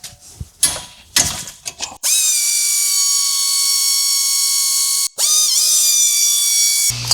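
Ratchet with a hex key socket breaking loose the front brake caliper bolts on a 2020 Ford Edge Titanium: a few quick ratcheting clicks, then a steady high whine that briefly dips before carrying on, loud and close with no talk.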